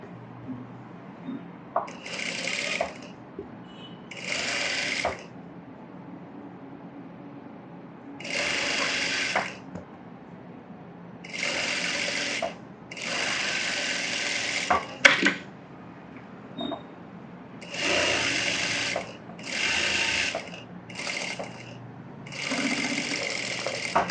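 An electric sewing machine stitches a blouse, attaching a facing piece along the bottom edge, in loud whirring bursts of a second or two separated by short pauses.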